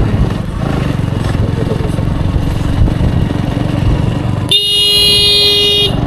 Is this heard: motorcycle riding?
yes